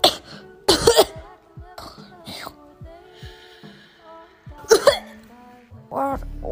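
Coughs and throat clearing from a person trying to stay quiet so as not to wake a sleeping grandmother, several short bursts spread through the clip with voices speaking between them.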